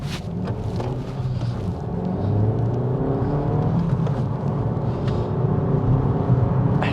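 A Suzuki Swift Sport Hybrid driving on country roads, its engine a steady close drone with a gradual rise in load around the middle, plus road and wind noise throughout and no talk.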